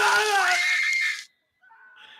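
Screaming in a horror film excerpt, a loud high wailing scream for about a second that cuts off abruptly, then fainter higher cries follow after a brief silence.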